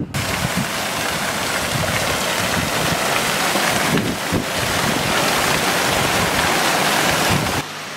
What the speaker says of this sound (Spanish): Este es el panorama de dos pequeños riachuelos que se encuentran en este trayecto del río Calicanto que va a Chaviña.